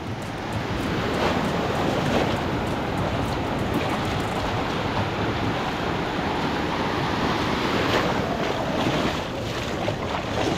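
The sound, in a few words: ocean waves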